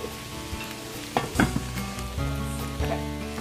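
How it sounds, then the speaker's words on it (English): Potatoes and onions fry in a pan with a steady close sizzle, broken by a few sharper crackles and stirring scrapes partway through, with no talk over it. "We're gonna finish frying these potatoes"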